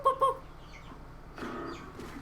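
Chickens cluck in two quick, sharp notes at the start, then softer murmuring clucks and rustle follow, fairly quiet.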